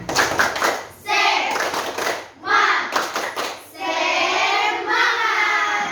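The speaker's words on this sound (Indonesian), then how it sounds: "Ayo kita tepuk semangat." Schoolchildren in a classroom do a rhythmic spirit clap, bursts of clapping and chanting voices in short phrases separated by brief pauses, fairly close.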